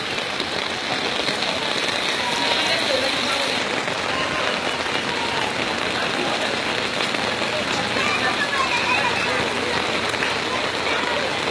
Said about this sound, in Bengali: তুমুল বৃষ্টির ভিতরে